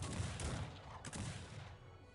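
Cannon fire in the video game Cossacks 3, a faint rolling volley of several overlapping booms and cracks in quick succession, thinning out toward the end.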